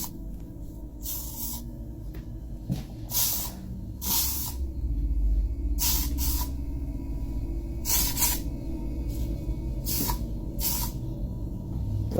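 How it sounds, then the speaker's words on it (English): Lysol disinfectant spray in a kitchen, released in a series of short, sharp hissing bursts of uneven length, some single and some in quick pairs, over a low background hum. "I wiped them and now I'm Lysoling them."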